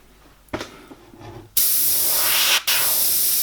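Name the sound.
airbrush spraying paint on an owl painting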